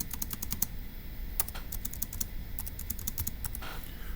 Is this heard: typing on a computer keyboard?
yes